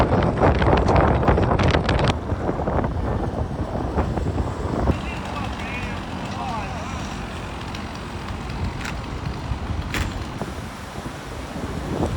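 Strong storm wind in the city of Dnipro buffets the microphone with roaring gusts and creaking, with talk over the first couple of seconds and the wind continuing alone after.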